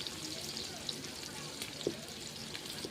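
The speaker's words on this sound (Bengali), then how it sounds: "আমার আলু ভাজা প্রায় হয়ে এসছে" Potatoes frying in a covered pan give a soft, continuous sizzle with faint crackles and a small clink, low in level, and quiet speech is heard.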